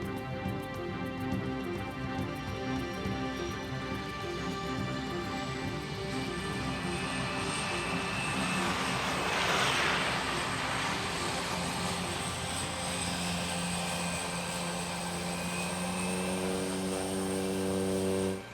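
An Otter bush plane on slow approach to land on a lake near a remote diamond exploration camp gives a steady, droning propeller and piston-engine hum heard from inside, with the pitch shifting near the end.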